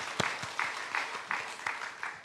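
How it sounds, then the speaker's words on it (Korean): A small congregation at a dawn church service claps in a quiet, loose rhythm to encourage the children seated in front, with faint voices beneath. "우리 박수로 우리 격려해 주세요"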